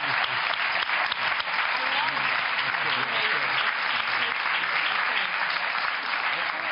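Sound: applause

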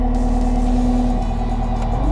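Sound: Cat machine engine throttled up to high idle

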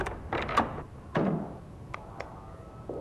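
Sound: door opening in Murder House video game

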